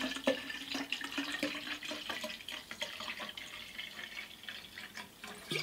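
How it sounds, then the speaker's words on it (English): Chilled Laphroaig whisky is poured into a SodaStream bottle, giving a close, faint, continuous liquid gurgle and trickle throughout with small splashes, and no talking. "And I'm going to pour it into the soda stream making bottle"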